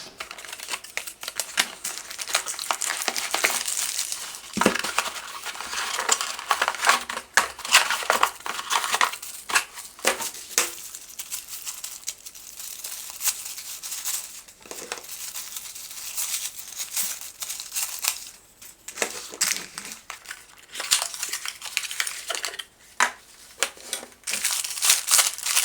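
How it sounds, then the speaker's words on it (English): Trail camera box and packaging being opened, with bursts of crinkling, crumpling plastic and cardboard handling, close and irregular throughout, no talking. "So let's open the box to find out more about this product"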